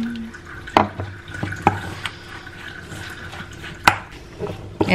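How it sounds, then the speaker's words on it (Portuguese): Water is poured a little at a time into cake batter in a home kitchen, giving splashy liquid pours and scattered clinks and taps of utensils at close range, with no voices. "Mas daí eu vou colocando a água aos poucos pra ver ele chegar no ponto"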